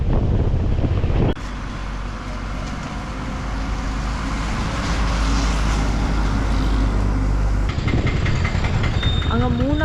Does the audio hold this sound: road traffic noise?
yes